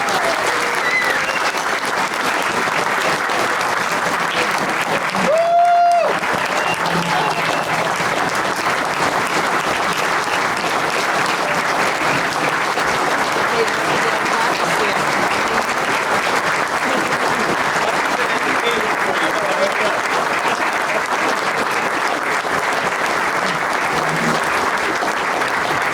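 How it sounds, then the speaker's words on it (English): Audience at a hall of fame ceremony applauding in one long, dense wash of clapping that stays loud and even for nearly half a minute, with a brief vocal sound near the start. "Give a round of applause for Brother Dan Kremen."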